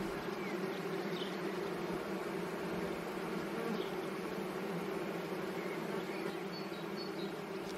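Dense, steady drone of many honeybees crowding into an octagonal hive, a continuous close buzz with no pauses.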